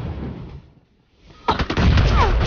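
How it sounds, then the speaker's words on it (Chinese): Gunfire breaks out in the mobile battle-royale Game for Peace: after a near-silent pause, a loud close burst of rapid shots erupts and keeps rattling to the end. "有人在开枪"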